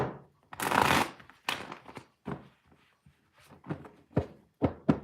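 Tarot cards shuffled by hand at close range, a long riffling burst followed by a series of shorter flicks, taps and card thumps at an uneven rhythm, with no talk.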